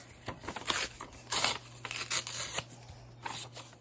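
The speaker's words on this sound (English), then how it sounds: "I'm just going to rip it by hand" A paper page is ripped by hand from a small ephemera journal book, producing several close, rasping tearing bursts of varying length with short pauses between them.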